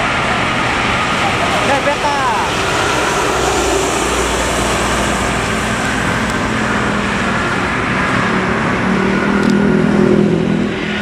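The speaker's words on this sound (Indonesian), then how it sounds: "Nah, ini ada truk." A truck rumbles past on the busy Cipali toll road near Palimanan, Indonesia, its engine noise steady and loud amid continuous traffic.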